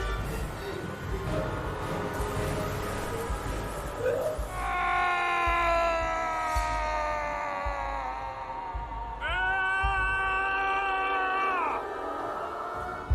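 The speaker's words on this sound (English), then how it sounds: "deep in the dungeons, no one heard his screams" A man screams in a dungeon: two long, drawn-out wailing cries with wavering pitch rise over a low, rumbling dark ambience, separated by a short pause.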